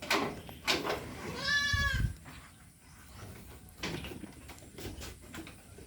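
Goats in a farm pen let out a wavering bleat near the middle, with quieter bleats and shuffling before and after it against a calm background.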